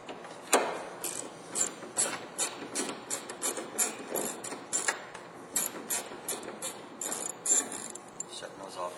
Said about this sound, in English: here we have to remove our two 8mm screws for the light